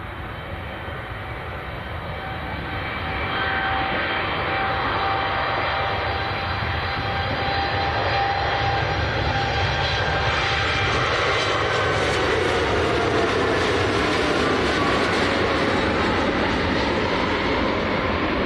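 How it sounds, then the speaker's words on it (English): A TUI Boeing 787 Dreamliner taking off from Manchester Airport, bound for Rhodes, its engines swelling from a distant rumble to a steady, broad roar that builds and holds as the jet climbs away. "So this is TUI, a 787 Dreamliner going out to Rhodes."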